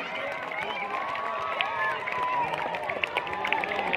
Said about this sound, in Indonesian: Boleh kasih tepuk tangan yang meriah sekali lagi